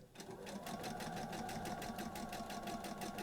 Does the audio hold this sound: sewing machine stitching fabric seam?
yes